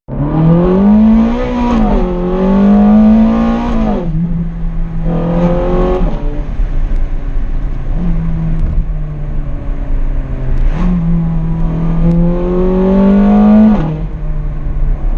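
A high-pitched Ferrari 430 Scuderia engine revs loudly and climbs through several gear changes, each rise dropping back before surging again, close and continuous.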